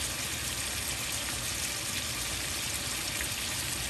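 Steak frying in a pan with a butter and oil mix while being basted gives a steady, dense sizzle, even and continuous with no voices over it.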